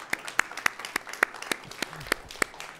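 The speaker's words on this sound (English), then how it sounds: "Would you give our friend Dave a round of applause as he comes up?" Scattered hand claps from a church audience welcome a volunteer onto the stage, roughly a dozen distinct, fairly close claps in an uneven rhythm rather than a full roaring ovation.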